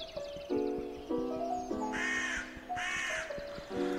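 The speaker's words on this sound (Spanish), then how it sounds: "Me voy a matar el cuervo ese, me lo voy a comer" Crow in a Minecraft-style video game, giving a series of loud, harsh caws in repeated bursts, with a steady tonal game tone running underneath.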